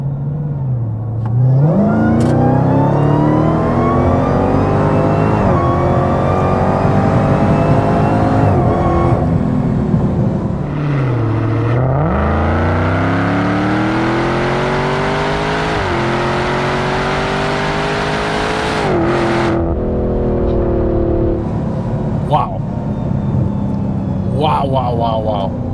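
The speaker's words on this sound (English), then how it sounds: "Feels pretty similar, just a lot more loud, and the supercharger is like a lot more dramatic." A supercharged Dodge Demon 170 accelerates hard through several gears, its loud engine rising in pitch with a whining supercharger and dropping at each shift, with occasional voices inside the car.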